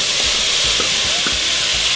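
Butter sizzles and crackles steadily in a hot pot with softened vegetables, with a few soft scraping knocks of stirring mixed in.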